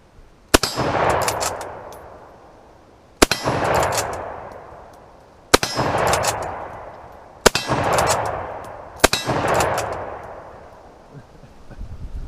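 A Henry-style rimmed-cartridge rifle fires five loud, sharp shots at steady intervals outdoors, each crack followed by a long rolling echo that fades before the next shot.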